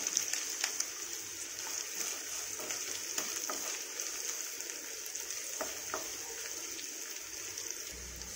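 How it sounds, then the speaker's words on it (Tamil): Onion, garlic and curry leaves frying in a pan for a village-style bottle gourd curry, a quiet, steady sizzle with light crackles and a few stirring taps, no speech. "அப்புறம் 1/12 பூண்டு ஆட் பண்ணிக்கோங்க. 1/3 பெரிய சைஸ் வெங்காயம் ஆட் பண்ணிக்கலாம்."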